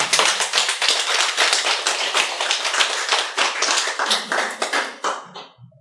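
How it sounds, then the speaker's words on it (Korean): A small group claps in a quick, even rhythm for several seconds, crisp, close hand claps that stop abruptly, followed by a brief murmur. "왜 박수 소리 나는 거야?"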